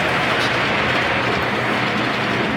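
Steady rolling rumble of an S scale 1/64 model train running along track, continuous and fairly close, with a faint rhythmic clatter and no talking.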